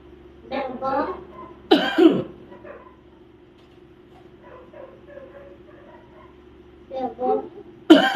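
Someone coughs in several harsh bursts, with throat-clearing sounds between and quiet gaps, close and fairly loud.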